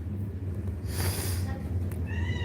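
A pet cat meows once in a short, moderately loud cry indoors, with a faint hum and light rustling around it and a brief thin squeak afterward.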